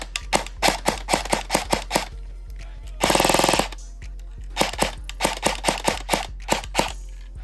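An electric airsoft rifle, HK 416 or Colt M4A1, fires close by: a string of sharp semi-auto shots, a quick full-auto burst, then more single shots at a steady pace.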